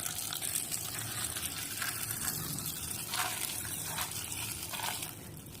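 Water is poured into a large vessel of puffed rice, a faint, soft, continuous splashing hiss with a few slightly stronger surges that eases off at the end.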